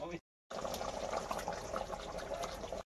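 Water is poured into a cooking pot during home cooking of chicken curry, a steady splashing, gurgling stream heard close up for a couple of seconds after a brief gap.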